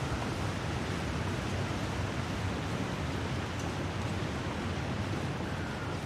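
A waterfall in The Long Dark rushes as a dense, steady roar of broadband water noise, loud and unbroken, with no voices.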